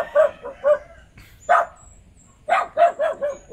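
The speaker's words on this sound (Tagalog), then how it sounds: "May aso dyan ah, baka makagat tayo ng aso." A dog at a house in Laguna, Philippines, barks in short bursts: two quick barks, a single bark, then a rapid run of four, all fairly close and loud.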